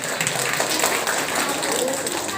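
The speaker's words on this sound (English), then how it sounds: "So clap for him." An audience at a school prize distribution claps for a nursery pupil who won first prize in a fancy dress competition, a steady close applause that runs through the whole moment.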